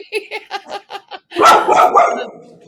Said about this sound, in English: Doggy bark.